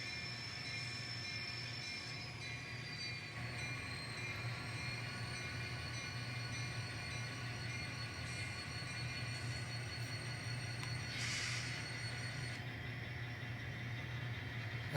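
An N scale model train runs steadily along new track on a switching layout, a continuous rolling rumble with wheel hum and faint high squeals, close and even throughout with no talking.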